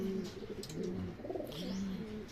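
Racing pigeons coo in low, soft, throaty phrases, several overlapping and repeating steadily at close range.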